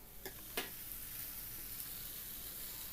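Malabar spinach curry stirred in a pan, a faint low sizzle with two quick scraping clicks of the spoon near the start, then a quiet steady hiss.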